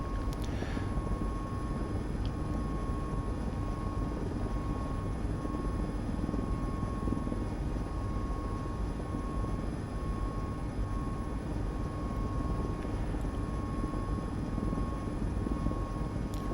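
Mil Mi-17 V-5 helicopter in Microsoft Flight Simulator, climbing in flight: a constant, dense rotor and turbine roar with a steady high whine, unbroken and even throughout.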